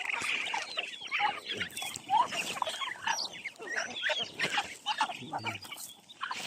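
Ducks and chickens at a rural farmyard feeding in the morning cluck, squawk and scuffle in a busy overlapping chorus of near and mid-distance calls, with pecking and patter beneath and no voices.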